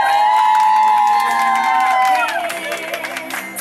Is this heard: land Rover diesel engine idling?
no